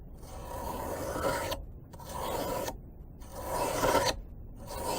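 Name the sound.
sharpening a knife on a medium sharpener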